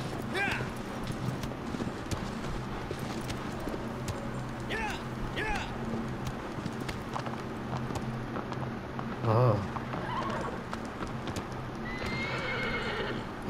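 A horse gallops with rhythmic hoofbeats in the Shadow of the Colossus Remastered video game on PS4, and it neighs clearly at several points. Someone talks over the sounds throughout.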